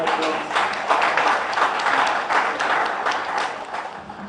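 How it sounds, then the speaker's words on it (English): Audience applause in a hall welcoming a police corporal and reverend to give an opening prayer at a police hospital credit union gathering, steady dense clapping throughout at even volume. "Shall we please welcome him with a round of applause?"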